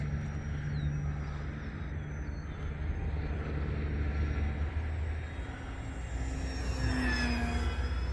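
E-flite Beechcraft D18 1.5m twin-engine electric model airplane flying overhead at partial throttle, a steady droning motor hum with a higher whine rising and shifting near the end, heard outdoors from a distance.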